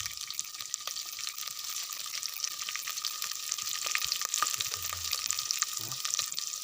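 Onions frying in hot oil for chicken biryani, cooked outdoors by a river, give a steady close sizzle with faint stirring scrapes and no talk.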